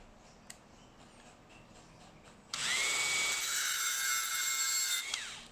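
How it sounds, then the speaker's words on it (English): A power tool grinding a metal part of an RC two-speed transmission; after a quiet start with a faint tick, a loud steady high-pitched whine starts abruptly and holds for a few seconds, then winds down near the end. "I just have to grind that part"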